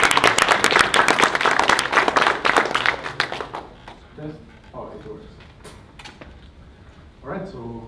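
An audience at an evening coding talk breaks into close, lively applause that dies away after a few seconds, followed by someone speaking and some soft shuffling.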